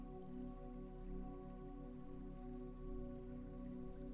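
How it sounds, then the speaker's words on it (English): Steady, even rain falls throughout, a soft continuous patter of drops landing on a surface with no break or change in intensity. "The rain continues."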